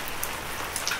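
Rain falling steadily onto the ground and grass outdoors, a dense even patter of countless drops with a few brighter individual hits, close and continuous.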